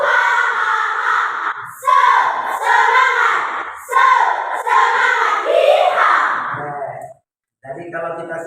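A classroom of students in Ruteng, Indonesia, standing and performing a rhythmic 'tepuk semangat' clapping chant, with loud group voices shouting in bursts across several rounds, claps blending into the chanting, and a brief pause near the end.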